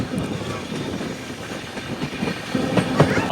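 Jan Shatabdi Express 12078 passing through Bapatla station without stopping, heard from on board as a steady rumble of rolling wagons with a few rhythmic wheel clicks growing louder toward the end.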